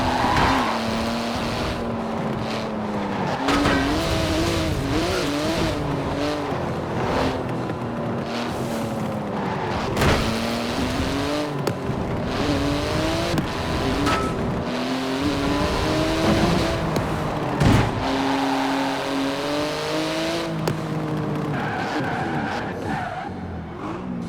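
Porsche GT2 RS in Forza Horizon 4, its engine revving hard through a long racing run with shifting pitch, gear changes and brief tire squeals, continuous and loud throughout.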